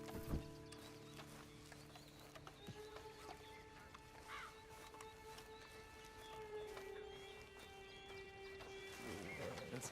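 A horse walks in the Red Dead Redemption 2 video game, its faint clip-clop hooves tapping softly under quiet game ambience and a low steady tone.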